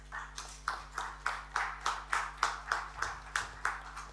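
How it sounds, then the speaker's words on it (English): Rhythmic, evenly spaced clapping of a small group welcoming speakers onto a stage at a fintech talk in India, about a dozen steady beats in a quiet hall. "Please welcome them with a loud round of applause."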